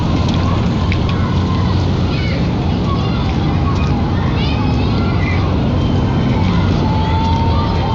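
Steady rain in the Heavy Rain video game pours down in a constant hiss with scattered drips and a low rumbling undertone, loud and unbroken for the whole stretch.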